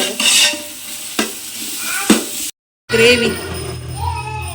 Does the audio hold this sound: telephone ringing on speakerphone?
no